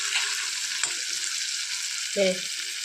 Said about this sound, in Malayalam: ഇതിങ്ങനെ ഇരുന്ന് ഒരു രണ്ട് മിനിറ്റ് കൂടെ ഒന്ന് ആ വശം കൂടെ ഒന്ന് ഫ്രൈ ആയി വരട്ടെ